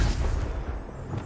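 A Confringo fire spell cast in Hogwarts Legacy lands as a short, heavy, low booming blast that rumbles briefly and fades, with no voices.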